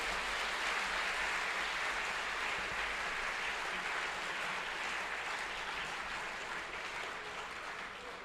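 A large audience applauds after a speech at an event, a dense, steady wash of clapping that carries on unbroken and fades slightly toward the end.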